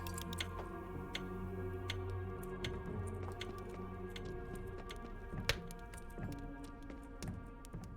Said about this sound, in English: I got a cuckoo clock.